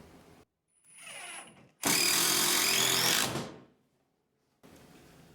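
A power drill drives a drywall screw into the stud behind a door frame: a brief whir, a pause, then one loud sustained burst of motor and screw grinding that stops abruptly, followed by faint shop noise.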